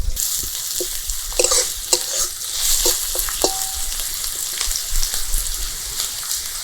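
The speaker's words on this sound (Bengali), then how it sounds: "পেঁয়াজটা কিন্তু খুব ভালো করে ভাজতে হবে।" Chopped onion frying in a pan for a prawn and pointed gourd curry, a steady sizzle with stirring clatters and scrapes of a utensil, close and fairly loud, no voices.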